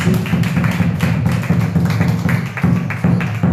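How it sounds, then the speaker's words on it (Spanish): A church congregation claps hands together in rhythmic, steady beats, loud and close, a dense continuous patter with regular accents and no talking over it. "palmas a Jesucristo, hermanos"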